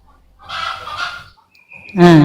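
A chicken clucks nearby, with a raspy squawk, a pause and then a louder harsh cackle.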